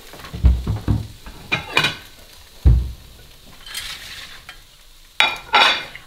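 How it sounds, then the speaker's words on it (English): Eggs frying in a pan on low heat for a breakfast, with a soft sizzle under several clattering stirs and scrapes of a utensil against the pan, some of them sharp and close. "Okay, so as the eggs are cooking, I'll put this on my plate."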